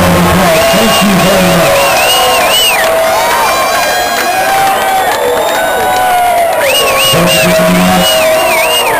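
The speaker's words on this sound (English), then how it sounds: "Give them a round of applause." An audience at a live concert by a tribute band at a swap meet cheers, whoops and shouts continuously and loudly, with a few voices bellowing over the crowd noise throughout.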